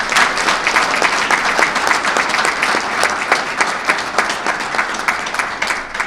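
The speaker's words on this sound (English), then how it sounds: "I want to just give a special round of applause" Sustained applause from an audience honoring state police members at a public gathering, dense steady clapping throughout without a break, loud and close.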